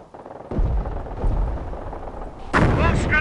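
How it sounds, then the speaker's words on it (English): Gunfire and artillery crack and boom in a World War II battle in Company of Heroes, a dense run of loud shots ending in a heavier, brighter blast near the end, with no talk. "We have incoming artillery!"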